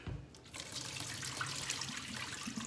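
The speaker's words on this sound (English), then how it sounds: "I'm trying to drain some of the water out of my potatoes." Water pouring and splashing from a pot of boiled potatoes into a sink as it is drained, a steady close rushing, trickling stream with no talking.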